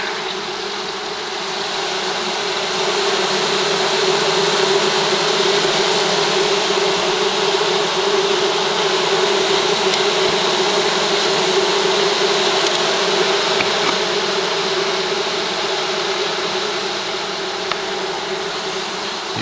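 A honeybee swarm drones in a steady, dense buzz while being sucked up by a vacuum, the insect hum mixed with a constant motor whine, loud and unbroken from start to finish.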